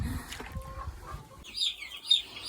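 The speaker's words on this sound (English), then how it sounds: "So all of our chickens are doing good, or our chicks I should say" Young chicks in a farm coop give high, bright cheeping calls in a quick run of repeated peeps near the end, after some low clucking and shuffling handling noises close by.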